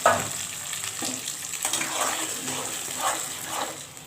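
Vegetables for a cauliflower dish with flat beans, potato, radish and tomato stir-fried dry in a pan, giving a close, moderate sizzle with irregular scraping and stirring strokes and no voices.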